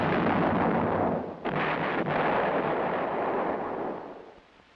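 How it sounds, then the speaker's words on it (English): An M108 self-propelled 105mm howitzer fires, a loud, sustained broadband roar with a short dip and a renewed blast partway through, then fades away at the end. "The same tube as on the M102 is employed on the self-propelled 105mm howitzer M108."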